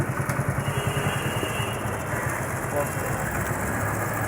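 A motorcycle engine runs with a low, pulsing putter as the clutch is slowly let out in first gear, the mid-pitched rumble steady beneath a voice talking nearby.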